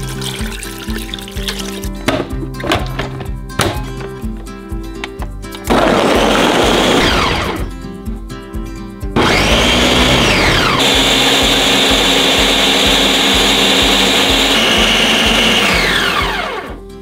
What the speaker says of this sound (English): if you stare at the blender while it's working, it's gonna work faster